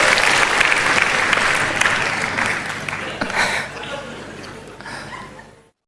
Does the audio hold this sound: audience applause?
yes